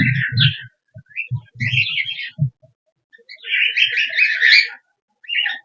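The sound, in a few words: pet birds chirping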